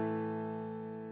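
A short piano tone from the first left-hand part of Für Elise rings out briefly and sustains evenly, close and quiet, with no voice.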